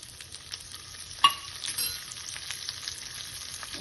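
Dried red chillies frying in hot oil in a pan while cooking Andhra-style brinjal pachi pulusu, a quiet steady sizzle with one sharp crackle near the start, no voices.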